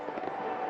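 Fireworks go off over a Bangladesh Premier League cricket match between Chattogram Royals and Rajshahi Warriors, a brief, faint burst of distant crackling pops.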